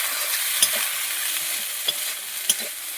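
Pasta and egg stirred into a spice mix already frying in oil, a dense continuous sizzle with a few sharp spatula clinks against the pan.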